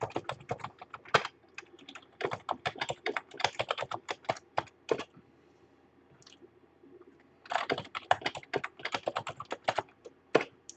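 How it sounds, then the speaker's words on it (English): Rapid clacking keystrokes on a computer keyboard as a password is typed, two dense bursts of typing separated by a quiet pause, close and crisp with no talking. "Helps if you can type your own password, I suppose"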